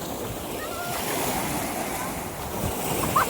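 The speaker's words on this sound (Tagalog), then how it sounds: "Ayun, ang ganda ng alon eh." Ocean waves wash steadily along an island shoreline, a continuous close surf roar mixed with wind buffeting the microphone, with no clear speech over it.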